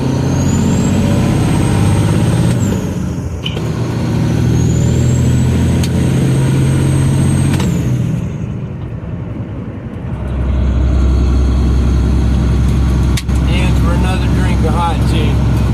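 A heavy truck's turbo whine climbs and holds at a high pitch, twice over, punctuated by sharp air-brake hisses and bursts, all loud and close over a deep engine rumble.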